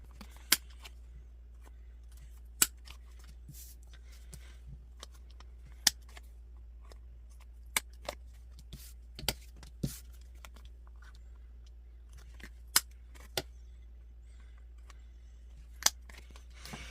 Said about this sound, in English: So I'm just going to take this little corner rounder